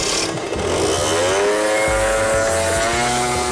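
Peugeot 50cc scooter pulling away, its small engine rising in a steady, climbing whine that holds loud and close over a low rumble for the whole stretch, with no talk.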